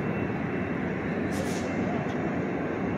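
An Amtrak Capitol Corridor train with cab car 8307 and an SC44 Charger locomotive at the rear, idling at a station before departing northbound to Auburn: a steady, loud, broad rumble with a couple of faint hissing bursts.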